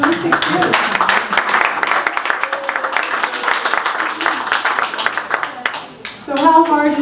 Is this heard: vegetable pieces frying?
no